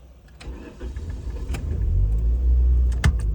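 An old Dodge Omni running low on gas rumbles and sputters as it begins to stall, a steady low engine drone swelling louder with faint rattles and a brief knock near the end.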